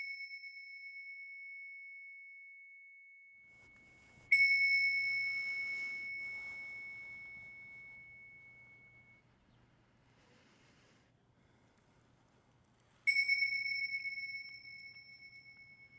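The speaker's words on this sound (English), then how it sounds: "ring these bells together." Meditation bells are struck together twice with a gap between, each strike a bright, clear ring that sustains and slowly decays into a quiet room, with faint low background noise.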